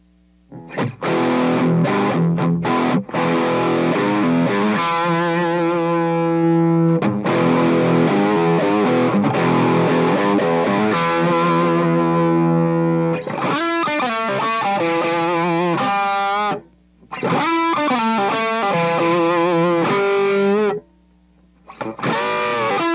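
A heavily distorted electric guitar on the bridge pickup, through a Keeley modded Boss BD-2 Blues Driver overdrive pedal, plays loud, sustained chords and riffs, with a couple of brief silent breaks near the end.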